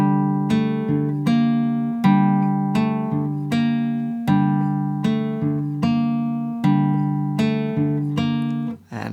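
Guitar plays a song's intro line slowly, a steady sequence of plucked notes and chords, each struck cleanly and left to ring and decay before the next, close and clear with no voices.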